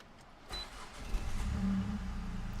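A Mini Cooper's engine runs with a steady low rumble that swells after a brief start, heard close from inside the car on a Tokyo drive, with no talking.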